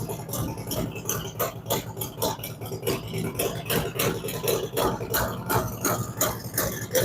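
V-twin motorcycle engine idling just after a fresh startup in a workshop, with a rhythmic loping rumble and rattle at a steady close level.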